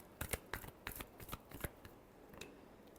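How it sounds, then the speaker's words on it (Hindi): A deck of tarot cards is shuffled in a quick series of soft riffling flicks and slaps, close and fairly quiet, with a brief pause near the end. "last shuffle"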